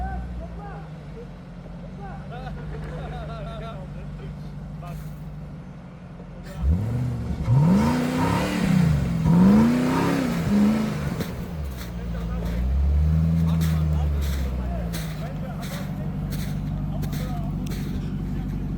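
Pickup trucks, a VW Amarok V6, a Jeep 4.7 and a Mitsubishi L200, rev and accelerate off-road, with engines surging loudly midway and then settling to a steady drone, while people talk throughout.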